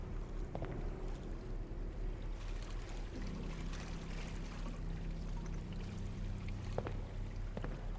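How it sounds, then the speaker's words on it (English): Water sloshes and splashes steadily through a flooded pool room in a video game, a continuous watery wash with a low droning tone underneath and a few sharper splashes, no voices. "Something splashing around in there."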